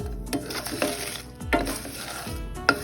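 Roasted gram (pottukadalai) fries in a pan while a spoon stirs it, with scraping strokes and clinks against the metal at uneven intervals over a soft background sizzle.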